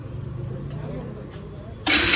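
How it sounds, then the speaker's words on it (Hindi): A Bajaj Pulsar motorcycle with its carburettor hose left open fires up abruptly near the end, its engine noise loud and broad after a stretch of someone talking. "गाड़ी को एक बार स्टार्ट करते हैं फाइनली।"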